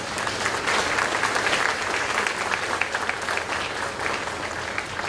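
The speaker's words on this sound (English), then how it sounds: "Let's give him a round of applause." An audience applauds steadily at a high school academic awards ceremony, a dense, even wash of many hands clapping that carries on throughout without talk.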